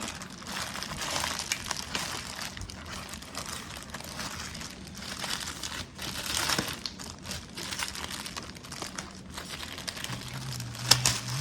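Crinkling plastic packaging being torn open and peeled off a tiffin box, close and fairly quiet, with irregular bursts of rustling and tearing and no talking.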